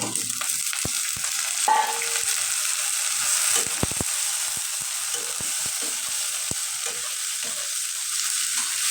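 Potato and pointed gourd pieces frying in hot oil with already-fried onion, a steady close sizzle broken by repeated sharp clacks and scrapes of a stirring utensil against the pan.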